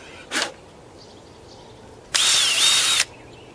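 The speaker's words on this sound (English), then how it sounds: "I'm drilling in a little deeper to see if anything changes." A power drill bores into a black walnut tree in two bursts: a short whine near the start, then a louder, steady whir lasting about a second, with quiet outdoor air between.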